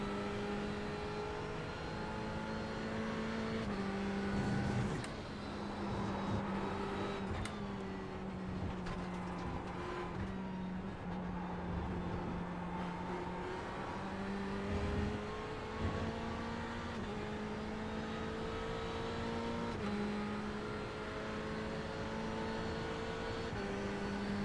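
Ferrari GT3 race car at Silverstone in iRacing, its engine note droning steadily throughout with harmonics rising and falling through shifts and throttle changes, loud and close with no talk over it.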